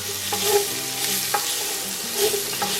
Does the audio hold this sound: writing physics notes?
no